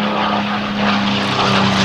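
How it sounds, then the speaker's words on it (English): The Quicksilver P-51 Mustang propeller warbird makes a photo pass at Oshkosh 2014 air show, its piston engine droning loud and steady with a strong propeller hum as it goes by. "From your right, the photo pass in the award-winning Quicksilver P-51."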